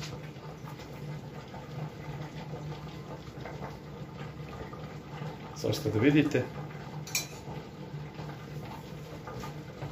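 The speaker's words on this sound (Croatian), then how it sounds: "I sad je dovoljno samo da uzmemo da protresemo lonac" A cooking pot of sarma (cabbage rolls) with roux is shaken by hand, giving a brief burst of rattling and clattering in the middle, near and moderately loud, over a steady low kitchen hum, with a person talking.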